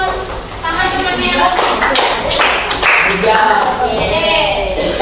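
Students in a chemistry classroom clap for a classmate, a loud clatter of hand claps and shuffling close by, with a teacher talking over them.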